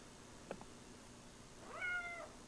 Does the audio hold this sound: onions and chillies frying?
no